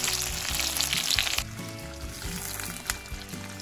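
Chicken sizzles and fries loudly in hot oil in a village kitchen, a dense steady crackle that is brighter at first and settles slightly after a stir, with no talk.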